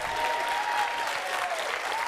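A studio audience on a French TV game show applauds steadily for the diva Zaza, a continuous, fairly soft wash of clapping with a faint sustained tone running underneath.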